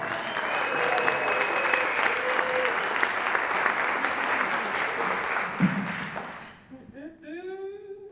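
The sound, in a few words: audience applause welcoming a speaker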